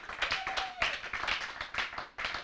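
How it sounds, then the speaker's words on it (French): A church congregation claps and applauds in irregular bursts, a dense close patter of many hands rising and falling, with a brief tonal whistle or voice in the mix. "Acclamez"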